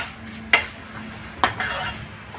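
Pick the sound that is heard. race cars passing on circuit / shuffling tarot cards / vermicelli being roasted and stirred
vermicelli being roasted and stirred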